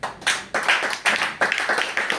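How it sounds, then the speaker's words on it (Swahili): A church congregation claps together in praise of Jesus. Five or six loud, sharp bursts of clapping land at an even rhythm, roughly every third of a second, close to the listener, with no talk over them. "Piga Yesu makofi."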